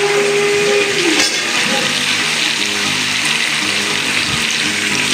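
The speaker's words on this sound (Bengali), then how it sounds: "এবার আমি সবজিগুলো দিয়ে দেবো।" Vegetables tipped into a pan of chicken already browned for a chicken stew, giving a loud, dense sizzle and frying hiss that runs steadily throughout with no voices.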